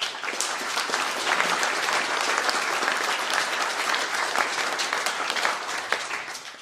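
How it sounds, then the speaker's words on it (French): A conference audience applauds the organising team, the dense, steady clapping sustained at an even level for several seconds, with faint crowd murmur under it. "vous pouvez les applaudir."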